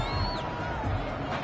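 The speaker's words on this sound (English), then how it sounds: "This home crowd, they're happy with that call." A home crowd cheers a penalty flag on third down in a video game American football match between the Mounties and Giants, a broad, steady roar of whoops under faint whistling tones.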